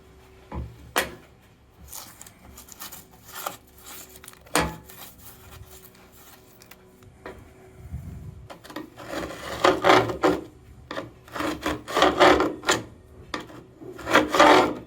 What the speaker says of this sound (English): I'm just edging out this grouting using the bottom of this chisel